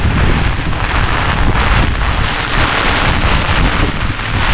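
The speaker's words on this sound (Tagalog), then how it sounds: "Ayan na, binabagyo na tayo." A typhoon's storm wind roars in a loud, continuous rush that buffets the microphone, with no let-up in its steady, dense blast.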